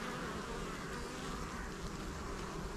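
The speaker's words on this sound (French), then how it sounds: "On voit quelques abeilles dehors sur la défensive." Defensive honey bees buzz outside the hive in autumn, a steady, dense hum of many wings at close range, with no other sounds.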